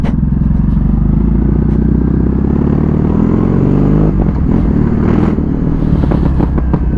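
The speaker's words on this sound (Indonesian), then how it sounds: "enak bener suara knalpotnya" A retro green Kawasaki motorcycle on a test ride, its exhaust droning loud and steady throughout, with engine pitch rising and shifting under constant wind and road noise.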